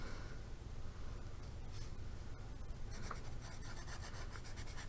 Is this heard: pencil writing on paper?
yes